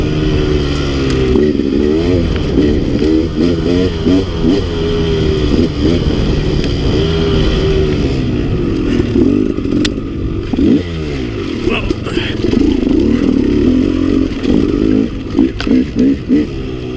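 KTM 300 XC two-stroke dirt bike ridden on a rough trail, its engine revving and dropping continuously and loud up close, with clattering and scraping from the terrain and a rider's voice talking over it.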